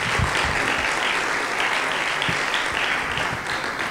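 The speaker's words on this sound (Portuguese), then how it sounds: "Uma enorme salva de palmas." An audience in the Auditório Ruy de Carvalho applauds a jury member at a spoken-word competition final, with dense, sustained clapping filling the hall at an even level.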